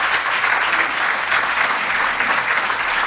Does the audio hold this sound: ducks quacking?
no